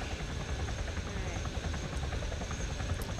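A helicopter in the military video game Arma gives a steady, dense rotor and engine drone that fills the whole clip, close and loud, with players talking under it.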